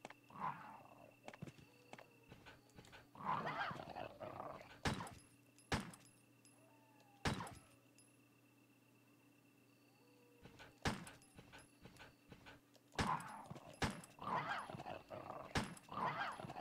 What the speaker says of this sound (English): Yeah, there are dogs here.